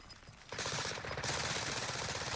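Gunfire in Warzone, a sudden dense rattle of rapid automatic shots close by that keeps up for about two seconds after a quiet start, no talking.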